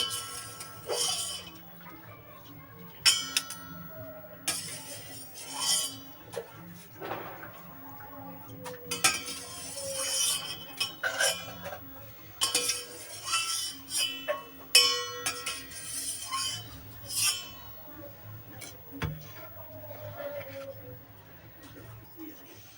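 Metal utensils clinking against a plate and pot as boiled cauliflower florets are lifted out, with scattered light taps and scrapes at irregular intervals, fairly close, over a low steady background hum.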